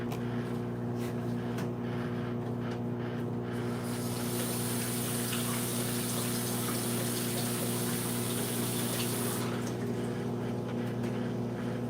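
A kitchen tap runs steadily as an orange is rinsed under plain water, a continuous close hiss and gush of flowing water lasting the whole stretch, with no one talking.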